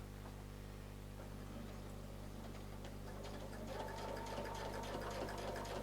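A sewing machine runs steadily while stitching a quilt along a curved circle template, with a ruler foot riding the template edge. The close, continuous motor hum carries faint rapid ticking that grows a little busier toward the end.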